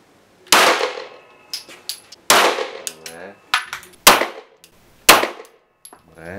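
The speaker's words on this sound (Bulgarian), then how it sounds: "След това тя се престраши да премине на 9 мм патрони." Loud, sharp 9 mm pistol shots at a shooting range, five or six close reports spaced about a second apart, each with a ringing metallic tail and brief echo.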